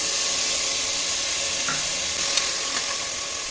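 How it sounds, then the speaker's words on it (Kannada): Tomatoes frying in a pan with onions for mutton chops give a steady close sizzle and hiss throughout, with a few faint scrapes as they are stirred. "ಟೊಮೊಟೊ ಹಾಕ್ತಿದ್ದೀನಿ."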